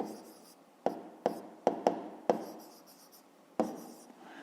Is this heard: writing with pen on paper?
yes